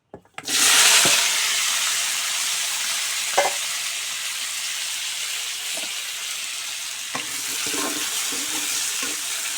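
Sliced taro root and green banana dropped into hot oil: a sudden loud hiss that settles into a steady, close sizzle, broken by occasional stirring scrapes and clinks.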